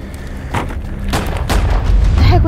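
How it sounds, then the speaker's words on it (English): A loud firework bang bursts with heavy low booms, then a quick run of sharp cracks and thumps, close and forceful with no talking. "This is a firework."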